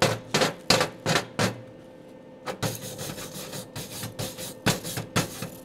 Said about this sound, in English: clean the slag off